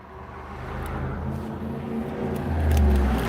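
Road traffic swells past nearby, a broad engine rumble that builds into a louder low whoosh as a vehicle goes by.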